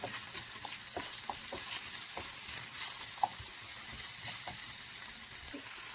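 Bell pepper and other vegetables frying in a pan, a steady close sizzle with light scraping and clicking as they are stirred.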